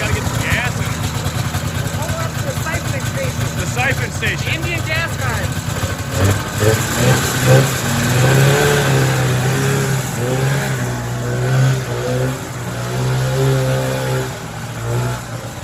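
A high-mileage Polaris 340 snowmobile engine runs roughly after a choked start, a steady rough drone that rises and falls, with people talking over it throughout.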